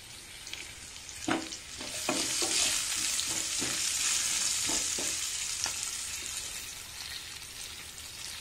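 Sliced onions with a little salt fry steadily in oil over medium heat for besan curry, a continuous broadband sizzle broken by a few sharp spatula stirs and scrapes near the start.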